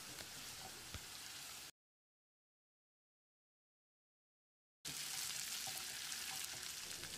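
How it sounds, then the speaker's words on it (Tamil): Chopped large onions and curry leaves sautéing in a pan for a cauliflower gravy, a soft, steady sizzle heard close, broken by a stretch of complete silence before the frying resumes, with no voices. "2 பெரிய வெங்காயம் பொடியாக நறுக்கினது, 1 கொஞ்சமாக கறிவேப்பிலையை சேர்த்து வெங்காயத்தை பொன்னிறமாக வதக்கிடலாம்"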